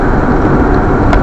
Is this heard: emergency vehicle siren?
no